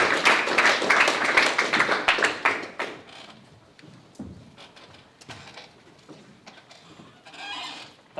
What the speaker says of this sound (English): So a round of applause for Bloomberg, please.